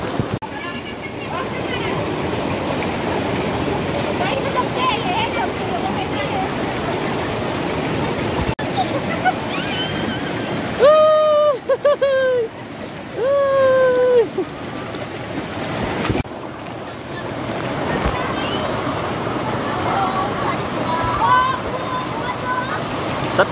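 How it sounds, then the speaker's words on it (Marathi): Natural flowing water washes steadily and loudly throughout, with a brief run of chirpy tonal calls midway and faint voices in the background. "मस्त नॅचरल पाणी"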